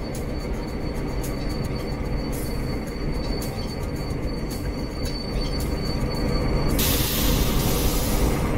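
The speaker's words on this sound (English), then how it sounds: "There's like a train. Oh, it's a 153." A Class 153 train passes through a station in a Roblox trainspotting game, with steady loud rolling rumble, squealing wheels and rhythmic clicks, swelling louder near the end.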